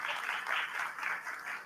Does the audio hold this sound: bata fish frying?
no